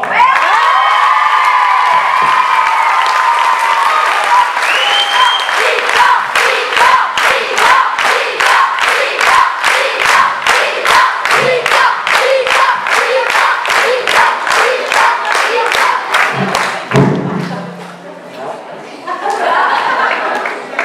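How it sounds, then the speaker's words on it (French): A dance gala audience claps in a steady, rhythmic beat for Victor, with loud cheering and shouting voices over the claps, and a short lull near the end before the noise picks up again. "je voudrais qu'on applaudisse très fort"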